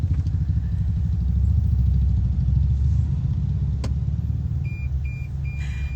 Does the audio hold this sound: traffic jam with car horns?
yes